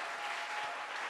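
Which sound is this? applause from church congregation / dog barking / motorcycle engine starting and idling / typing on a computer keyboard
applause from church congregation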